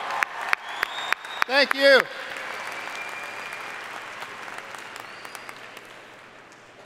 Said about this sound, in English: please join me in giving your family and friends a well-deserved applause